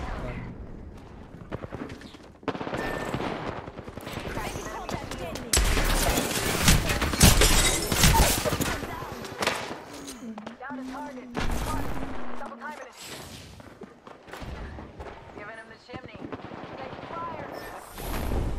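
Rapid automatic gunfire and bursts in the battle royale game Apex Legends, loud and dense, with overlapping volleys and impacts, and a player talking over the shooting.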